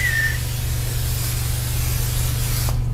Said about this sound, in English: I'm just going to take some old vegetable oil and we're going to spray it all around this rack.